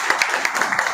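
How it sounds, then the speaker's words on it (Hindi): Dense applause from an audience honouring Iqbal bhai at a Bhiwandi Congress event, a steady loud patter of many hands with sharper individual claps standing out. "भाई के लिए ज़ोरदार तालियां"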